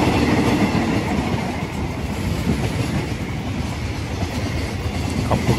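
A diesel train, number 631 hauled by Alsthom locomotive 4409, rumbles past close by at Taphan Hin station, Phichit, Thailand, a continuous heavy roar with rhythmic clattering of wheels over the rails.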